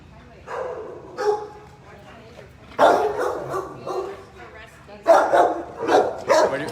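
A dog at an animal shelter gives several short barks in irregular bursts, fairly close, mixed in with people talking nearby.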